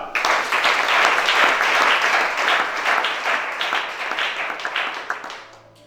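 A church congregation at a deliverance service claps together in dense, continuous applause that swells early and then gradually fades.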